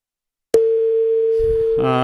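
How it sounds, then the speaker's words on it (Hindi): After a sudden click, a call line drops into a steady, loud, unbroken electronic tone, with a faint low murmur under it and a brief burst of distorted sound near the end. "लाइन ड्रॉप हो गई है"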